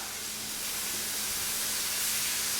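Vegetables and meat for carne guisada sautéing in a hot pan, a dense continuous hiss and sizzle that holds steady and close throughout with no breaks or talking.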